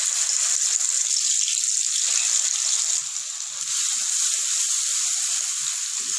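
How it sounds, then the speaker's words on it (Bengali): Spice paste sizzling loudly in hot oil in a pan for a no-onion, no-garlic vegetarian aloo dum, a dense, steady hiss that eases slightly midway and then carries on, with no voices. "এবার এর মধ্যে মশলার পেস্টটা দিয়ে দেব।"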